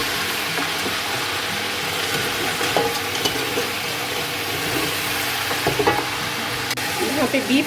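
Beef fries with garlic-ginger paste in a pot for nihari, a loud continuous sizzle with occasional stirring scrapes and clatter up close, no voices.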